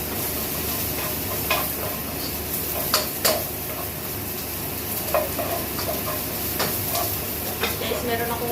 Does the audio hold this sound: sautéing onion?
yes